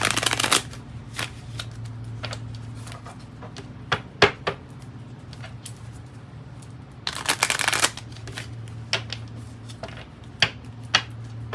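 Tarot cards being shuffled by hand, soft riffling bursts and light taps repeating at intervals over a low steady background hum, close and fairly quiet.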